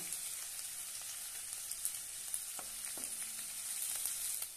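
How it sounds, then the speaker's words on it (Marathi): Chopped onion frying with curry leaves in oil for a potato and spinach dry dish, a steady close crackling sizzle with faint stirring clicks and no talking. "कांदा लालसर असा परतून घेऊया। थोडासा कढीपत्ता घालूया।"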